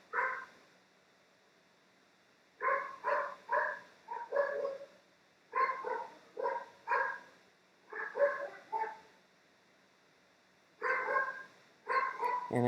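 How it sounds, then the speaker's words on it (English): A dog barks indoors in repeated bursts of three or four sharp barks separated by pauses, moderately close and alone without talk. "And I have a really obnoxious dog."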